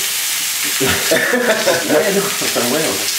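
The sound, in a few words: courgettes frying in olive oil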